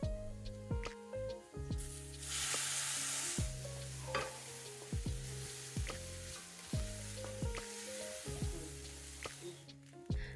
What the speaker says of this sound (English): I added chopped carrot, potatoes and peas to it. Sauteed for a minute and then added soaked moong dal.